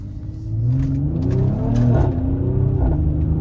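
A Mercedes GLE AMG Coupe engine in Sport Plus mode revs and accelerates hard, its deep roar climbing through rising pitch sweeps and a gear change, heard close from inside.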